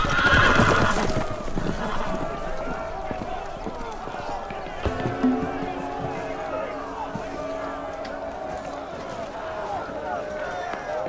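Horses whinny and neigh amid hoof clatter and commotion, with shouting voices mixed into the noisy scene.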